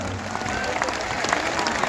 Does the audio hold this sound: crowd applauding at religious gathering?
yes